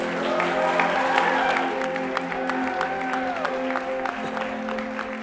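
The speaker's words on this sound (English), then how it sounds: "you may applaud" Wedding guests clap and cheer briefly after the newly married couple is presented, a loose roomful of applause with a few voices, fading toward the end.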